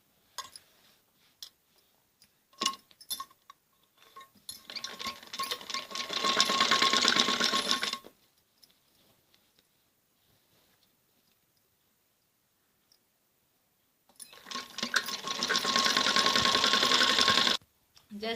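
A sewing machine runs in two sustained bursts, stitching the side seams of a kameez jacket, with brief starts and pauses between and quiet gaps of silence in the middle.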